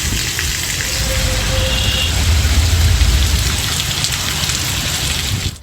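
Heavy monsoon rain pours down around Kanchipuram, Walajabad and Sriperumbudur in Tamil Nadu: a dense, loud, continuous hiss of downpour drumming on surfaces, steady throughout with no voices.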